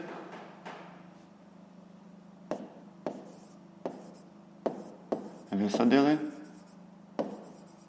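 Pen writing on paper during a fifth-grade maths exercise, heard as a series of short scratchy strokes and taps spread through the stretch, with a longer scribble near the end, close and fairly quiet over a low steady hum.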